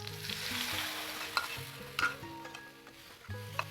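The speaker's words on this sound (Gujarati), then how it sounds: "હવે આપણે જે મિશ્રણ તૈયાર કરીને રાખેલું છે તે એડ કરી લઈએ આપણે।" Prepared besan chutney mixture poured into a hot tempering with hing, a close sizzle with stirring scrapes and a few spoon taps, with no one speaking.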